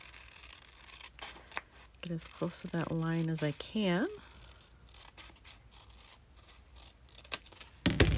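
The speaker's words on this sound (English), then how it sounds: "So now I'm going to cut that as well. This will be easy." Scissors snip and slide through paper in short, close cuts scattered across the clip, while a person speaks briefly in the middle.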